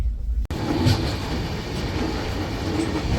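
A passenger train runs steadily along the rails, its loud, continuous rumble and faint wheel clatter filling the space close by, with a short sharp break near the start.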